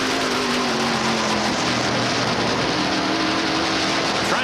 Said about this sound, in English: Listen to the engine on the Lowe's EpiPen 18 of Alex Taglieni.